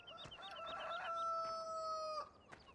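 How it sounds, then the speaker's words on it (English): A rooster in Farming Simulator 15 crows once in a long drawn-out call, with a few soft clucks around it, faint against a quiet background. "So yeah, that's our rooster."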